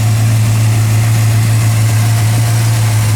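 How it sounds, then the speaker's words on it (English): A 1970 Dodge Charger's 440 V8 with a Holley carburetor idles in a deep, steady, loud rumble with a constant low drone throughout and no other sounds. "This Holley carburetor is all dialed in, sitting on top of this massive 440 V8 engine."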